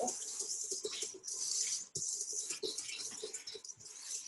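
A hand whisk beats milk and vanilla in a bowl, giving rapid, continuous close-up clicking and swishing strokes with a few short pauses.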